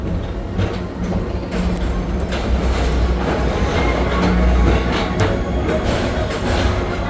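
The Tomorrowland Transit Authority PeopleMover ride train at Disney rolls along steadily with a loud rumbling hum and rhythmic wheel clatter, a continuous ride noise with no voices.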